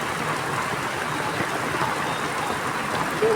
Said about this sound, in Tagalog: Yan, malakas ang ulan mga kamamship.